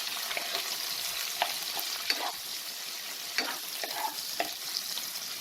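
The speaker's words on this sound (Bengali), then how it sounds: "পেঁয়াজটাকে আমার হালকা ব্রাউন করে ভেজে নিতে হবে।" Two medium chopped onions frying in oil in a pan for soya biryani, a soft steady sizzle with scattered clinks and scrapes of stirring.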